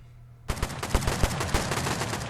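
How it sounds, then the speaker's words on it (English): Rapid gunfire in the video game Rust during a base raid, a sudden burst of loud close shots cracking in quick irregular succession after a brief quiet moment. "So there's some gunfire going back off at the base of that area."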